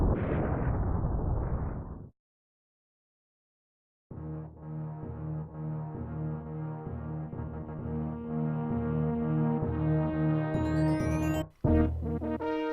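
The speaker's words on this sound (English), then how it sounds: "We have the obligational run back to the ship as the entire planet will explode" The planet exploding in Super Metroid on the SNES: a dense rumbling blast cuts out to silence, then returns as sustained booming, droning tones that swell and rise before a sharp break near the end.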